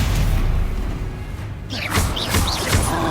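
A Stupefy spell is cast in the Hogwarts Legacy video game, a loud booming whoosh over a dense, rumbling background, followed by bright, flickering magical chirps.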